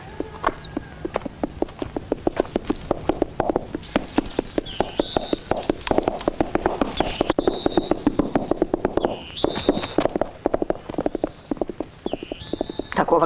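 A horse clip-clops in a close, continuous rhythm of hoofbeats, with occasional higher calls rising above the steady pattern.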